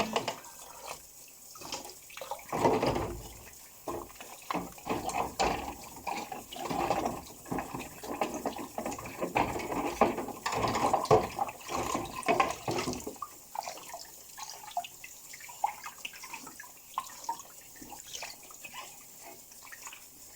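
Dishes being washed by hand in a sink while wearing pink rubber gloves, with running water and splashing, clinking glasses and crockery, busy for about thirteen seconds, then quieter trickling and drips.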